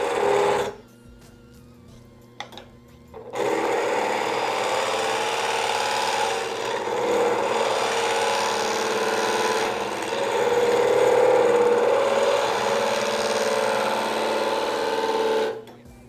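A copper mesh blank being metal-spun on a lathe, clamped against the chuck, gives a steady broadband rubbing whir that starts after a few seconds and runs continuously, swelling slightly midway before cutting off near the end.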